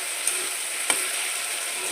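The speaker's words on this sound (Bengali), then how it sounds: "দেখো আমি একটু কষিয়ে নিচ্ছি সুন্দর করে।" Rui fish curry sautéing in a pan with spices, a steady broadband sizzle running throughout with two brief clicks of a utensil, no talking.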